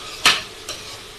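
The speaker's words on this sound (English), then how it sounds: "Well, that's starting to stick, so give that a stir." Chicken kadai sizzling in a pan is stirred, one sharp scraping stroke followed by a fainter second, over a soft steady sizzle.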